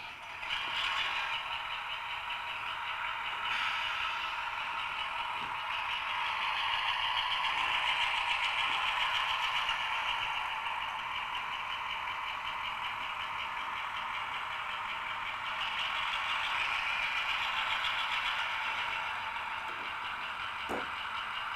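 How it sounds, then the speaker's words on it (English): Model railway locomotive sound unit during an uncouple shuffle on a freight layout, a continuous mid-pitched mechanical hum and rattle with small clicks and clatters, fairly quiet and unaccompanied by speech. "We'll just take another look at that uncouple shuffle with the high mech again, but this time with the sound switched on."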